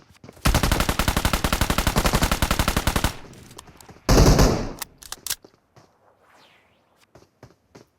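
Automatic gunfire in the video game PUBG: a long, dense, rapid burst lasting about three seconds, then a second short loud volley, followed by scattered single shots and small clicks.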